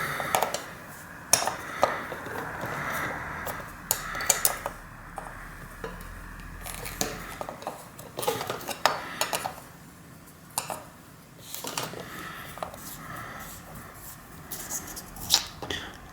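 A 19mm cone wrench working loose the nuts on a RockShox Jett bicycle fork, giving scattered metallic clicks, taps and clinks at close range in a quiet room, with no talk.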